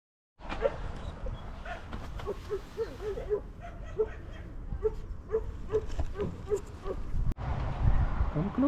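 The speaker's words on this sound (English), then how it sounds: "Come closer, baby dogs." Puppies yip and whimper repeatedly near a narrowboat on a UK canal, short high cries in an irregular series over wind rumble, with a voice speaking among them.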